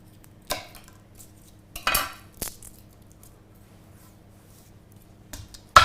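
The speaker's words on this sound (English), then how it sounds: "now with these cloves of garlic, take the ends off" A knife taps against a cutting board in a few sharp, separate knocks while the ends are trimmed off garlic cloves, close by and quiet between the cuts.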